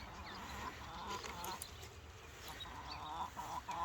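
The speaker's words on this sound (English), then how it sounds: "the smart chickens come along and wait for them to drop kibble on the ground." Chickens on a farm give soft clucks and a few sharper calls, faint and close against a quiet outdoor background with no talking.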